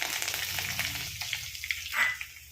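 Mustard seeds and curry leaves hit hot oil for a jackfruit thoran, giving a soft, faint sizzle and a few light pops that flare briefly near the end of the short moment.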